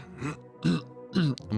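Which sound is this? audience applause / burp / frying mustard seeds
burp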